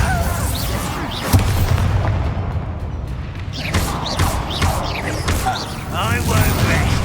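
Bombarda blasting spell explosions in the video game Hogwarts Legacy, with several heavy booms and crashes scattered among clanking combat noise while voices speak throughout.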